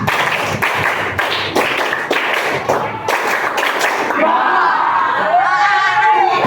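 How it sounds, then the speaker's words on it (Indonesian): Schoolchildren clap the Tepuk Indonesia rhythm in a classroom, a loud run of sharp, closely spaced claps in patterned bursts, then the clapping gives way to voices and singing near the end. "Tepuk Indonesia. 1, 2, 3."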